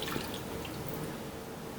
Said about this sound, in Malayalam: ഇതിലേക്ക് മുക്കാൽ കപ്പ് വെള്ളം